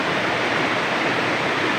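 A clear river flows with steady, broadband rushing water, even and unbroken throughout with no voices.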